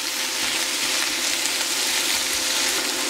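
Chicken thighs and vegetables sizzle and fry steadily in a pan, a dense, even crackle close up with no talking.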